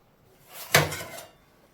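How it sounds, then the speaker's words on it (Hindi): A metal tray of naan slid into an oven and the oven door shut, a single close metallic clank with a short rattling tail against an otherwise quiet kitchen. "अब हमने उसको अंदर डाल दिया नान को, और इसको बंद कर देंगे ऐसे"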